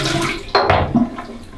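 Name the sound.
pouring water out of a shaving bowl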